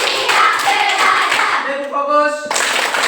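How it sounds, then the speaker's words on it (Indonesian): A group of students claps together in a classroom, a brisk run of many hands that breaks off into a short sung or chanted phrase before clapping resumes. "tepuk tangan dulu"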